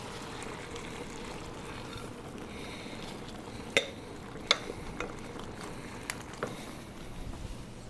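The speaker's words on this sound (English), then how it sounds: "So we'll mix all this together, get it cooking really good" A pot of deer chili with kidney beans, chili beans and fire roasted tomatoes being stirred, a low wet churning with a few sharp spoon knocks against the pot over a steady background, no talking.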